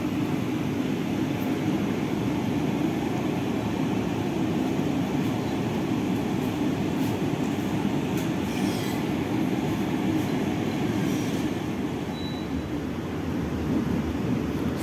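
An extra economy-class Pasar Senen–Solo train departing Gombong station, a constant broad rumble of rolling carriages with faint wheel squeals and light rattles, steady and unbroken for the full stretch.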